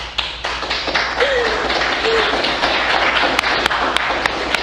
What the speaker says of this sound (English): The clapping while she's crying is brutal.